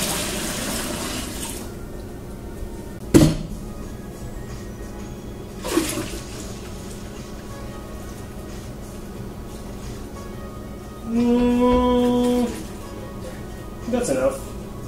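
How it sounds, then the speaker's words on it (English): Water from a tap runs into a plastic home brew beer fermenting bucket while making up a Coopers IPA kit, with short splashes early on and a sustained louder gush near the end. "put the water in."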